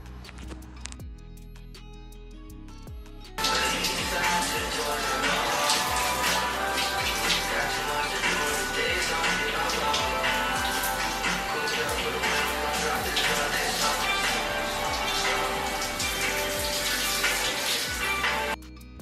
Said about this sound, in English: I gave my hair a nice rinse